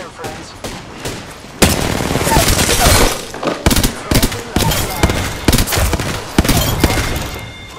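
Close, loud bursts of rapid automatic gunfire in an Apex Legends match, with sharp single shots between long fusillades and voices talking briefly in the background.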